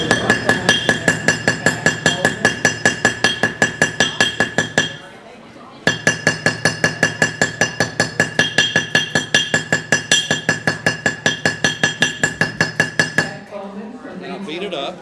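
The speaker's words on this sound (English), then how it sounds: "I'll take a little ball peen hammer like this and a piece of metal." A small ball peen hammer beats a piece of metal in a fast, steady run of ringing metallic strikes, loud and close, with one brief pause partway before the hammering resumes.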